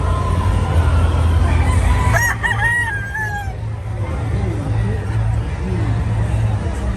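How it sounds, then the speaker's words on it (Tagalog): A fighting rooster crows loudly nearby over a steady low hum, with a second fainter crow later amid farmyard background noise at a cockfighting derby. "So ito yung mga manok ni Boss Eddie Bong dito."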